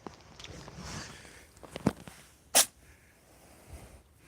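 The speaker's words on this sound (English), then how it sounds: "Bless you, Max." A cat sneezes once, a sharp broadband burst standing out clearly in a quiet room, with a smaller snort-like sound just before it.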